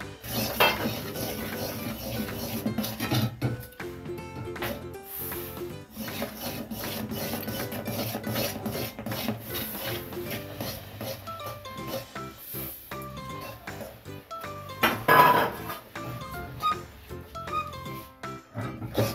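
Sesame seeds stirred into melted jaggery in a pan while making til naru, giving a steady, close rasping scrape with occasional clinks against the pan and a brighter scrape near the end.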